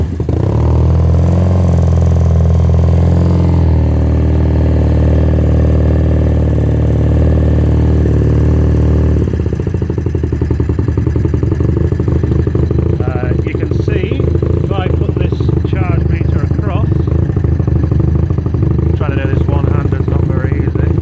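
A 1982 BMW R65 motorcycle with a charging fault is started and runs up close. Its loud, steady engine note clatters and rises briefly partway through, while a person talks over it during the second half.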